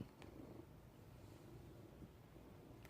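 A cat purring close by, a low steady rumbling purr, faint and continuous with no voices.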